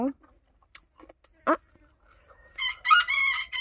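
Chickens cluck in scattered short calls at first, then a rooster crows loudly near the end, with a person speaking briefly among the bird sounds.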